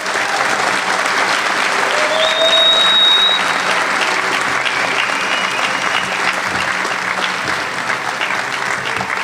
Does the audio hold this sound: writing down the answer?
no